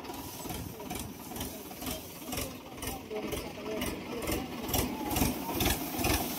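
A tractor engine runs steadily at mid revs while hauling a load of fodder home from the fields, its rhythmic chugging thrumming continuously under people talking nearby.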